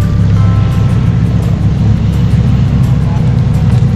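A Ferrari sports car driving past at an outdoor car show, a loud, deep engine rumble that holds steady throughout, close to the listener, with no one talking over it.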